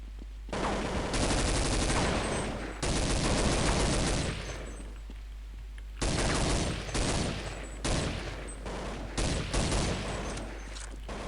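Counter-Strike 1.6 gunfire comes in loud, rapid automatic bursts with short gaps between volleys. A few single shots follow near the end.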